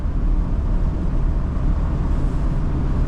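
A 1970 Mercedes-Benz 300SEL 6.3 pulls hard in second gear, its engine a steady, loud, low rumble heard from inside the car without talk.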